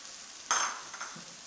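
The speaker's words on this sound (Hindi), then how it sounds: "और इसको अच्छी तरीके से फ्राई करेंगे।" Chicken with green chillies and ginger-garlic paste frying in a pan hits with a sudden loud sizzle, then settles into a steady crackling hiss as it is stirred, with no talking.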